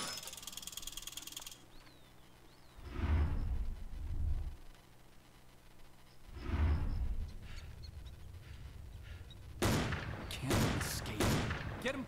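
Rifle shots in the hunting game Cabela's Big Game Hunter 2010: several sharp bursts ring out at intervals over a quiet outdoor ambience, the last cluster coming in quick succession.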